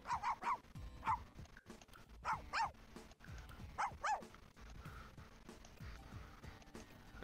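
Barking and yipping from a big, buff dog in The Sims 4 video game, several short bursts in clusters over a steady background of game music.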